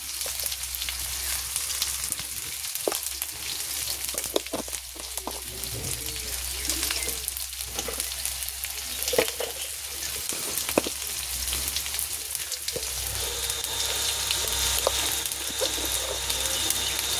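Ground mixed spices tipped into a hot frying pan, giving a steady, close sizzle with faint crackles and a few soft scraping stirs throughout.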